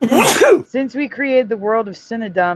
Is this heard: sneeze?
yes